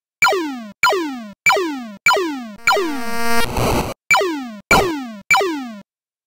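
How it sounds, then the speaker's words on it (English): Atari 5200 game sound effects: a run of identical falling electronic chirp tones in a steady rhythm, broken once by a longer buzzy tone and a burst of noisy static, loud and clean with no talking. "I'm also playing the sound from the Atari 5200 version at this moment"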